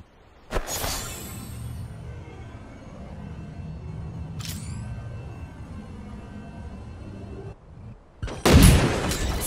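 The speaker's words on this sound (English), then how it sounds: "I hear gunfire. Keep your eyes sharp." Video game gunfire: sharp close blasts at the start, midway and near the end, with a low rumbling ambience between them and no talking.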